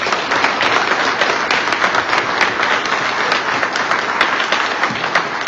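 Steady applause from an audience at a mayoral candidates' forum, dense clapping sustained at an even level throughout with no voices over it.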